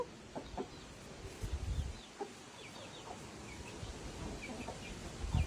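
Mother hens with newly hatched chicks outdoors, soft scattered clucks and faint high chick peeps at a modest distance over a steady background hush, with no speech.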